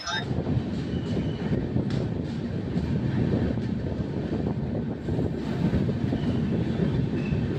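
Puri Superfast Express pulling out of platform 23 at Howrah station, heard from on board as a steady, loud rumble of wheels and carriages that continues without a break.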